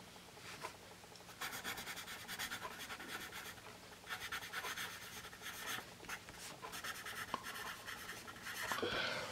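A Dixon Ticonderoga Envirostik pencil writes on paper, giving a close, quiet, continuous scratchy rubbing made of short strokes in bursts, with no talk.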